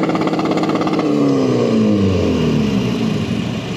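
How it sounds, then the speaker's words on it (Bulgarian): A Stage 1 tuned diesel car, remapped from 116 to 150 hp and sooting from the tailpipe, revs hard toward nearly 5000 rpm. The engine note is loud and close, with a rising then falling pitch sweep and no talk over it. "Тук имаме и доста сериозен звук за дизел"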